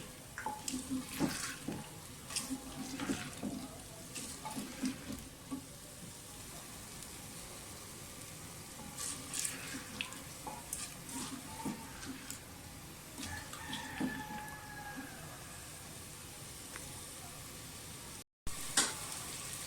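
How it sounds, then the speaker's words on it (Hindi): Steady sizzling and crackling of potatoes frying with garlic-ginger paste in a clay pot, with occasional clinks and scrapes of stirring, close by and without talk. "लहसुन अदरक के पेस्ट के साथ आलू जो है वो भून जाए"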